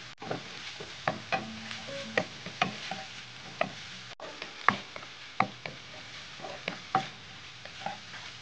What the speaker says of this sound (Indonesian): Kemudian akan saya masukkan sosis yang sudah saya cincang.